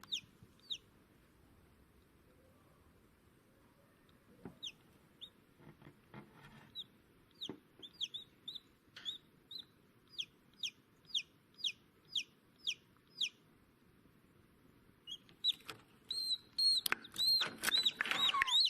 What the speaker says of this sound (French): le petit poussin est en train de casser la coquille